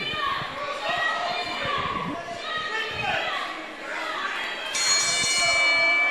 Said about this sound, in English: there's the bell for this opening of this match